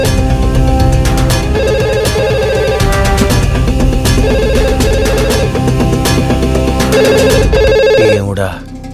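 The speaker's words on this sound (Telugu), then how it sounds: "అవును, ఇక్కడే ఇక్కడ పక్కన రింగ్ అవుతుంది." A telephone rings nearby in a Telugu-dubbed movie scene, its repeated electronic trilling bursts loud and close over a busy music backdrop, continuing for several seconds before cutting off at the end.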